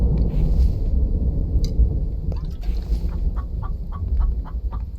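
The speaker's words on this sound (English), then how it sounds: "It's been a while since I heard a chicken." A chicken clucks in the survival video game The Infected, several short clipped calls in quick succession over a low ambient rumble.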